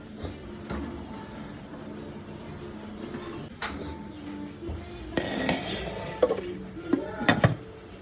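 A lid set onto a cooking pot of fasting pulao amid kitchen handling, with scattered metallic clinks and knocks that grow louder and more frequent toward the end, plus a couple of sharp clanks.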